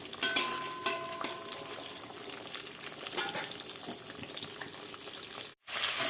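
Fish frying in hot oil at home, a close crackling sizzle with sharp pops and spatters scattered over a steady bubbling bed, cutting out briefly near the end.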